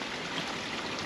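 Water running off beside a tree in a country park, a steady close trickling wash filling the short moment without any voices.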